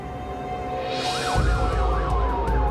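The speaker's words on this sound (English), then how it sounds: "Sirens pierce the air in the affluent neighborhood of Brentwood." A police siren wails and yelps in rising, falling sweeps in Brentwood, Los Angeles, at night, growing louder as it approaches with a low engine rumble beneath.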